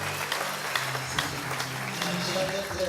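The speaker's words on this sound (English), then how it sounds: "Let's give him a round of applause." Crowd applause, steady overlapping clapping at moderate distance, lasting throughout without a clear peak.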